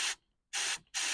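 Three short, loud hissing blasts from an air compressor blowing air into the passenger side of a Mini Cooper, each about a fifth of a second, separated by brief silences.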